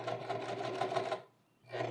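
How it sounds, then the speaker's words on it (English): A sewing machine runs zigzag stitches on the ends of high-waisted pleated pants, a fast steady whirring chatter close up, pausing briefly before starting again. "finally some zigzag stitches on the ends just to reinforce everything a little bit"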